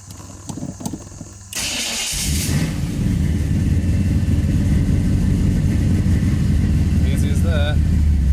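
A few clicks, then a car engine fitted with Holley Sniper EFI cranks briefly and catches, settling into a loud, steady idle that stays close and continuous.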